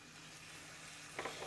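Tomato puree is added to masala frying in a pan for Kashmiri chicken. A soft, steady sizzle flares briefly as the puree hits the hot oil, and the whole thing stays faint, with no talking.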